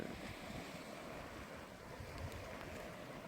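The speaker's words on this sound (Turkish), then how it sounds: "Dalga sesleri." Steady, soft rushing of Aegean Sea waves washing ashore, a continuous broadband wash with some wind noise and no voices.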